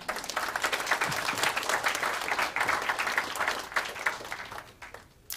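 Enthusiastic crowd applause at California Freethought Day fills the space, steady and fairly loud, then thins out into scattered claps toward the end.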